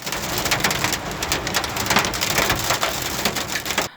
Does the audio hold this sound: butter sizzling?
no